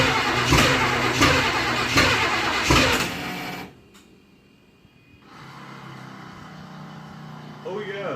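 A car engine fitted with Holley Sniper EFI runs loud and close with rhythmic pulsing, cuts out abruptly into near silence, then a quieter idle-like hum returns.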